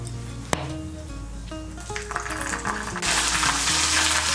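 Ginger paste sizzles and crackles steadily in hot oil with whole cumin, a dense frying hiss with occasional stirring clinks that swells louder near the end.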